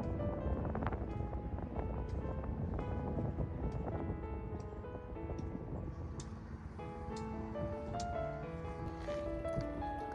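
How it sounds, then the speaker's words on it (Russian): Strong spring wind blows outdoors among trees near the Mississippi River in Dubuque, Iowa, a steady, loud, broadband rush that never lets up across the whole stretch. "Ветер сильный, конечно."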